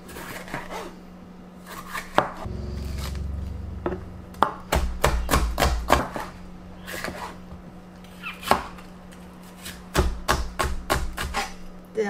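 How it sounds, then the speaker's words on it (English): A knife chops carrots on a cutting board, a steady run of sharp, close taps in quick bursts with short pauses, while quinoa cooks nearby with a low background hum. "first I'm going to cut the carrots"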